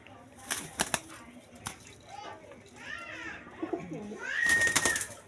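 A tournament-flown racing pigeon coos softly between sharp bursts of wing flapping near the start and end, with people talking nearby.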